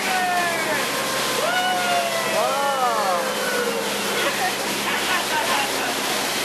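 Steady rushing water from a waterfall on the Jungle Cruise boat ride at the Magic Kingdom, continuous and close as the boat passes behind it, with a voice reacting briefly over the roar.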